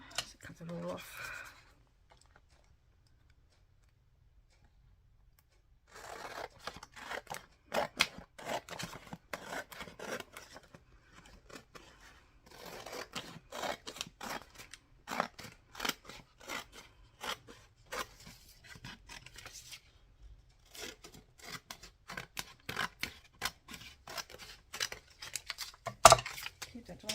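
Scissors cut away leftover paper or card from a handmade journal spine, a series of soft, irregular snipping and rasping strokes close by, separated by brief quiet pauses, with a voice speaking at the start.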